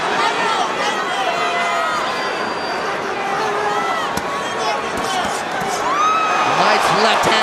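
Boxing arena crowd cheering and murmuring loudly throughout a Canelo Alvarez versus Alfredo Angulo fight, a dense continuous roar with sharp shouts and whistles rising near the end, with a commentator talking over it.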